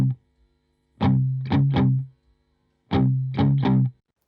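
An unprocessed guitar track plays in two phrases of three distorted, ringing chords each, separated by short silences and heard alone.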